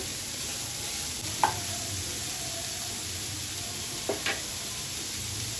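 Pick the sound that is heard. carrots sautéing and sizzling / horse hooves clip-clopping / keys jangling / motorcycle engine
carrots sautéing and sizzling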